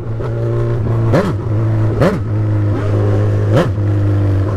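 A Honda CB1000 motorcycle engine with a straight-pipe exhaust idles close by and is revved in several quick bursts, the pitch climbing and dropping back each time.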